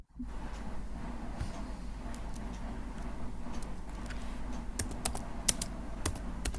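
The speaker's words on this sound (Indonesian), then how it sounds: "Ini lagi ngetik nih. Ini lagi ketik." Computer keyboard typing, faint and fairly close, with scattered light key clicks over a low steady hum, the taps growing denser and sharper in the last seconds.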